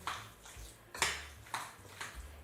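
A spoon stirs pumpkin pie filling seasoned with marjoram in a bowl, making a series of bright clinks and scrapes roughly every half second, close and fairly quiet, with no talking.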